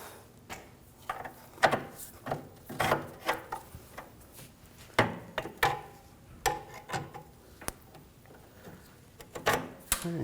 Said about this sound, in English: Now using the pull jack, just raise up on the control arm